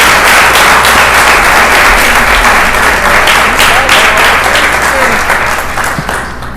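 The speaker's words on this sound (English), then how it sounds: "Let's have a big round of applause for Sujata." Audience applause for Senator Sujata Gadkar-Wilcox at a state bill signing ceremony, a dense, loud wash of many hands clapping continuously and fading slightly at the end.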